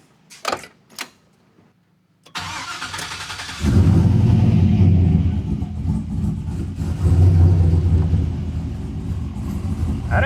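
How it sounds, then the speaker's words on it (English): A new 6.2 engine cold-starts on a hot day: a few faint clicks, then the starter cranks, it fires with a loud roaring rise, and it settles into a steady, rough, rumbling idle close by, with no speech. "it's about 100 degrees outside, but that's pretty good that it fired right off and it's somewhat idling"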